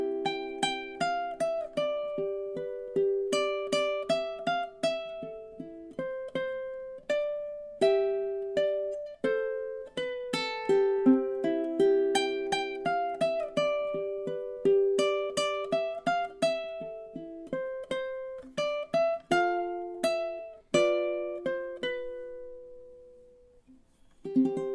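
Ukulele playing the outro of a song, a solo fingerpicked melody of plucked notes and chords at a gentle pace, close and clear, ending on a held note and a final strum, with no talking.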